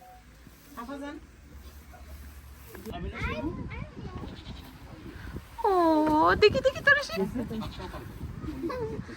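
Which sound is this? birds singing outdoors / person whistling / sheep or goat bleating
sheep or goat bleating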